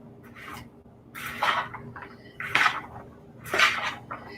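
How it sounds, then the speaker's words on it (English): Taco mix and butter being stirred in a pan in a home kitchen, with three distinct scraping, clattering strokes about a second apart over a low background. "you take the taco mix and you mix it up a little bit, and then stir it really good"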